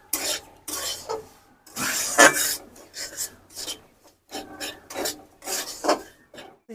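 Semolina fried in ghee is stirred with rhythmic, gritty scraping strokes across the pan, loud and close, with short pauses between bursts and no voices.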